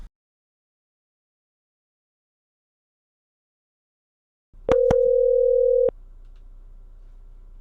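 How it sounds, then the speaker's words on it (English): A steady telephone dial tone comes through a VoIP line to a BT Home Hub while dialing 101, starting after a long silence with a couple of sharp clicks, holding about a second, then cutting off to a low hum. "Now I'm phoning 101."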